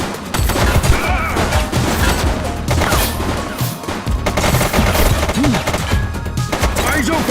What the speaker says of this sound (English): He's shooting!